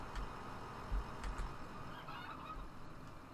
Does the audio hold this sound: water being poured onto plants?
no